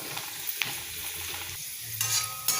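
Pirandai (adamant creeper) sautés in a pan with a soft continuous sizzle and occasional scraping stir strokes, close and fairly quiet, with no voices.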